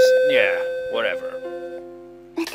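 A doorbell chime from the anime-style video game Shuffle! rings out clearly in a two-tone ding-dong pattern, with a brief voice and other game sounds around it.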